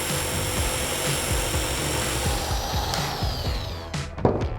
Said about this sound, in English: We place everything into a jar filled with sand, bolt it into a drill, lock the trigger and let it spin for about an hour